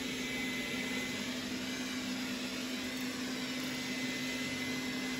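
A Roborock S4 Max robot vacuum with 2000 Pa suction runs on max power, giving a steady, even whir with a constant hum that holds unchanged throughout.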